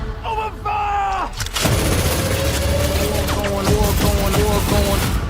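Gunfire and explosions in the Black Adam (2022) movie trailer, loud booming volleys and rapid shots over a dramatic score with a voice shouting.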